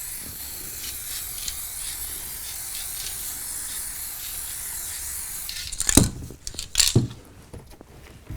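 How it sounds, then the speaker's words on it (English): Aerosol spray of scenic layering material on a model railway layout: a steady close hiss of spraying for several seconds, then clicks and rattling handling noises as the can is moved. "I'm going to shake this up, spray it on the whole thing"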